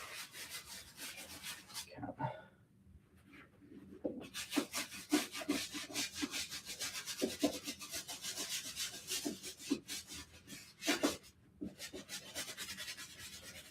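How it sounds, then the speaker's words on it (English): Wet leather cowboy boots are scrubbed with a brush in steady, quick back-and-forth rubbing strokes, close and fairly quiet, pausing briefly once before the scrubbing resumes. "you don't want your leather to be soaking wet when you're done scrubbing it"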